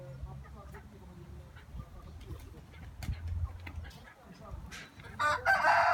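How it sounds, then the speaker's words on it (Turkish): A rooster on a village farm crows loudly near the end, under a backdrop of people talking and scattered farmyard noise. "Horoza mı gidiyorsun?"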